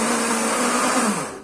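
A blender grates coconut with a loud, steady motor whir and a high buzzing pitch, close up and alone, easing down in the final moment.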